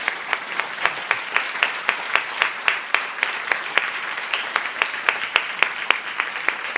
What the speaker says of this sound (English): Can we take this opportunity to give them a huge round of applause,